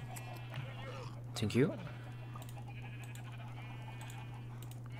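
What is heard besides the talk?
sheep bleating in Minecraft video game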